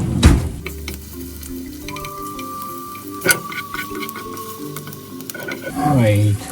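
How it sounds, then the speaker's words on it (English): Sliced garlic crackles and sizzles in cooking oil over low heat in a pan, a steady close hiss with occasional stirring clicks and spattering pops, swelling louder at the end. "the first ingredient you heat is sliced garlic"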